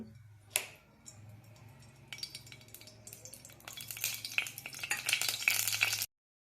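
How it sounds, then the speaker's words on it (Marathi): Oil heating in a hot kadhai, with faint ticking and crackling that builds into a louder, dense sizzle and spatter over several seconds, with no talk. "इथे छान अशी कढई गरम झाली आपण तेल घालून घेऊ"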